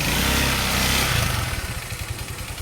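A motorcycle engine runs close by, starting with a loud steady roar and then settling into a rough, pulsing idle with a chugging rhythm, and no one speaks.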